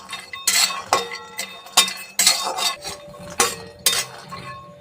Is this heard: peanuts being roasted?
yes